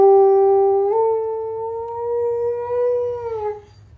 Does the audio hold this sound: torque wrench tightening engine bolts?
no